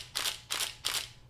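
A Nikon D90 DSLR fires in continuous shooting mode with the shutter button held down, giving three crisp, evenly spaced mechanical shutter clacks in quick succession, close and clear with no talking.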